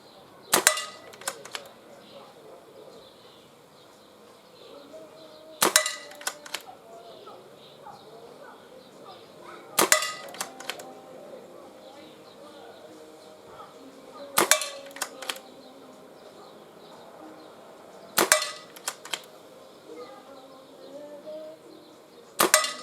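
A Webley Nemesis air pistol fired at a 12.5 metre outdoor target: six sharp, snappy cracks spaced several seconds apart, each followed by a faint metallic ring, with soft handling sounds between shots.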